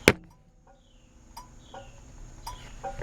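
Interior light door switch on a 1972 Chevrolet C10 clicking: a sharp, close click at the start, then a few softer, evenly spaced clicks against a quiet background, with no talking.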